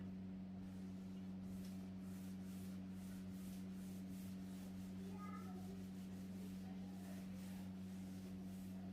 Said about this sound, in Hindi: अब इसको हम रब कर देते हैं